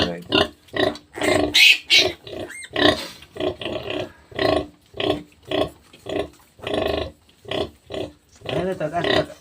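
A sow farrowing piglets grunts in a steady series of close, loud, rhythmic grunts, each about half a second long, repeating throughout with short pauses.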